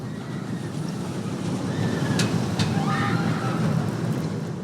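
A roller coaster train runs at night at Fuji-Q Highland in Japan, heard as a continuous loud rumbling roar with a faint metallic squeal and a couple of brief clacks partway through.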